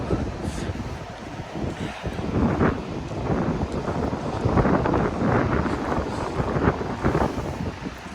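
Strong wind buffets the microphone at a cold lakeshore near the Canada–US border, a continuous roaring rumble with gusts swelling and easing throughout, loud and close with no voices.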